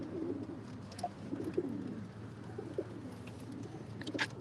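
Low pigeon coos murmur steadily over a hum of background noise, with a few brief higher chirps.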